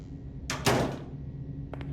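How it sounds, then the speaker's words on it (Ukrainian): A door swinging shut in the video game Case Animatronics 2, heard as one short thudding close against a low background hum, followed by a couple of faint clicks. "Так, давайте закриємо двері."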